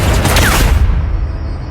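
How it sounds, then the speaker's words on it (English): A burst of gunfire rings out in an audio drama, a loud close fusillade of overlapping shots that cuts off abruptly after under a second, leaving a fading echo. "knocking the security guard aside even as White Eyes opened fire"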